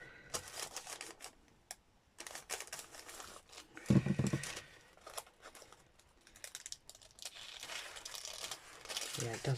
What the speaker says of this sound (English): do you need a bit of baking parchment underneath you?